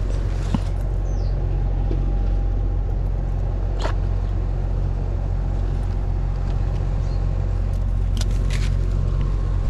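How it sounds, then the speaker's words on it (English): Heat pump condenser fan motor running steadily, a constant low hum and whir with faint intermittent clicks, no talk. "Fan comes on, that's what it wouldn't do before."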